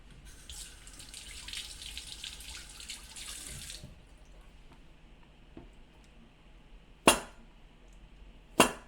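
Cherry tomatoes rinsed under a running kitchen tap, a steady stream of water for several seconds that then cuts off, followed by a couple of sharp clicks.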